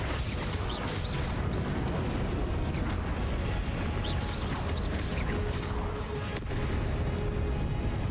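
Spell combat in Hogwarts Legacy fills the scene with continuous dense blasts, crackling impacts and booming explosions, loud and unbroken throughout.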